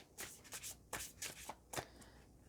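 Tarot cards are shuffled in quick, crisp bursts of riffling, close and quiet, about six short flurries spaced irregularly with no talk.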